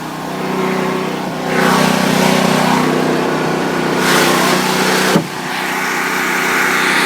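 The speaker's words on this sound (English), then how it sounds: "So we'll go over here and we'll power down our generator." A Predator standby generator engine runs continuously and loud, a steady mechanical drone with a broad rushing wash and a brief sharp knock near the end, no voices over it.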